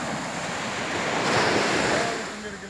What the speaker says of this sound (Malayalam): തിരകൾ അടിച്ച് ഈ കര വരെ എത്തുന്നുണ്ട്.